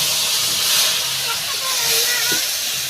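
Mustard paste hitting hot oil that has been tempered with a dried red chilli and five-spice seeds, with a steady, loud frying sizzle and hiss throughout.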